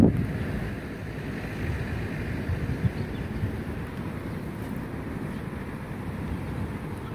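Steady wind blusters into the microphone beside roadside wind turbines on the coast, a dense low rushing roar that persists throughout with little variation and no voices.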